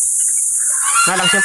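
A farm bird in a turkey enclosure gives a single loud, harmonic call near the end, preceded by a steady background hiss.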